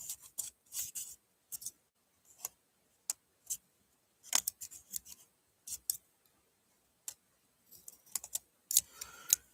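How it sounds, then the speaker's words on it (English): Sharp scissor snips come in scattered bursts, quiet and close, with short pauses between cuts in an otherwise silent room. "I'm going to take my scissors."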